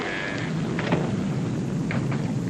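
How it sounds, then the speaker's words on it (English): Steady, heavy rain hisses over a low, continuous rumble of thunder, with no voices. "The rain that's falling down,"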